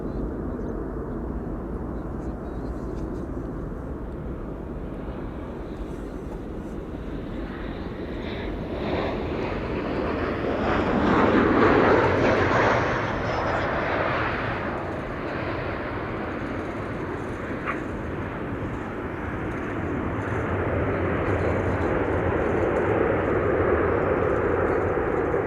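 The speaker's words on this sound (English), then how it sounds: "Next up is KLM flight 1630 arriving from Venice, a 737-800" A KLM Boeing 737-800 airliner arrives at Amsterdam Schiphol with a broad, sustained jet roar that swells as it passes, then stays a steady rumble, with faint talk underneath.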